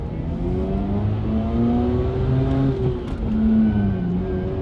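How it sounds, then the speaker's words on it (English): A car engine hums steadily close by, its tone shifting slightly as it passes, with no voices. "Oh, car's coming."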